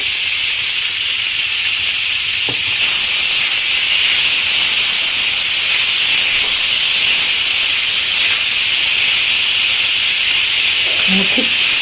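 Pavta beans sautéing with turmeric and salt in a black iron pan, giving a steady loud hiss that runs unbroken throughout, with a few faint clinks near the end.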